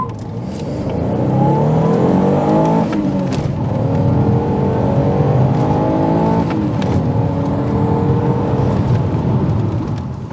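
An Alfa Romeo 156 engine with a pod filter revving up through the gears, rising in pitch, dropping at each shift and climbing again, loud and close with a throaty intake growl.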